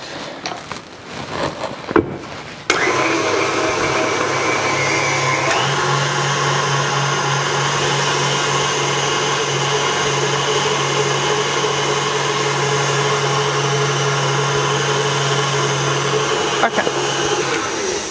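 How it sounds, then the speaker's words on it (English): An electric mixer whirs at medium-high speed, beating eggs, sugar and butter, a steady motor drone with a low hum that runs unbroken after a brief noisy start and stops near the end. "let it stir for another good 1 minute in a medium to kind of high speed. Depends on the kind of a mixer you are using."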